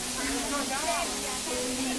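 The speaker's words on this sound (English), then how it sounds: "And this is just a small waterfall so far." A small waterfall in a green natural setting on a trip in Guizhou, China, gives a steady, close rushing hiss of falling water that continues unbroken under faint voices.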